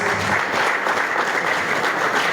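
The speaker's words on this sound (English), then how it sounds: "Keep clapping for her." Audience applause at a book launch, a dense, steady wash of many hands clapping throughout, loud and continuous with no pauses.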